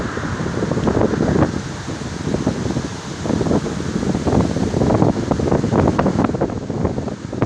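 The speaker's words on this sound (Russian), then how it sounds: "Так, здорово ехать с попутным ветром." Constant gusty tailwind buffets the microphone in a rough, loud rumble while cycling outdoors, with no voices.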